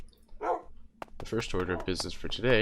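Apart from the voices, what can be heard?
dogs barking in Minecraft video game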